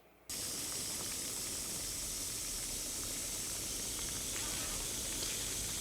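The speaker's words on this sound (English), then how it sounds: "Being a frozen turkey going into hot boiling oil." Loud, steady hissing and sizzling as a frozen turkey hits hot oil, a broad spray-like roar starting abruptly and holding at full strength throughout.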